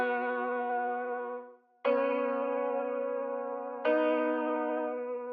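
Synth melody in an ambient Christmas-style FL Studio beat, run through a Valhalla Supermassive delay with no reverb: sustained bright tonal notes with echoing repeats, three phrases restarting cleanly after brief gaps, played alone.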